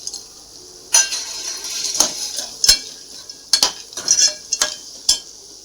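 Dried sandge dumplings are dropped into spicy red gravy in a metal pan and stirred, giving a series of sharp scraping clinks and clatters of spoon on pan over a faint sizzle, close and alone.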